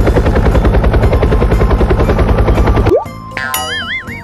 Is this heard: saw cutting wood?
no